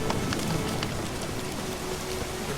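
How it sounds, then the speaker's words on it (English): Steady rain falling in the video game The Witcher 3, a dense continuous hiss of drops spattering on surfaces, with no voices. "All of a sudden the rain has changed"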